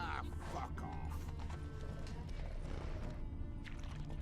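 A horse's hooves clip-clop steadily through the Witcher 3 video game, a continuous rhythmic trot set against dense game ambience and mechanical clatter.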